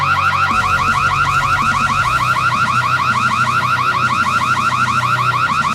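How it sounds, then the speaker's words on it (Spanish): A car alarm blares loud and close in an audio drama, its rapidly repeating warbling siren tone pulsing in a fast, even rhythm the whole time with no talking over it. "Una alarma. Alguien estaba robando."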